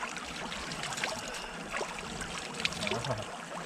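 Cold mountain water in an Idukki stream trickles and dribbles over stones, a quiet continuous flow with small splashy accents and no voices.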